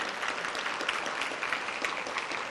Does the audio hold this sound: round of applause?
yes